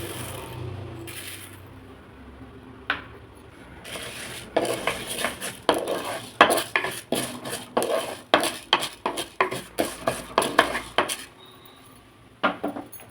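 Chana dal and urad dal rattle and scrape in a heated clay pot as they are roasted and stirred, a faint hiss giving way to a run of sharp, rhythmic clinks and scrapes that stop near the end.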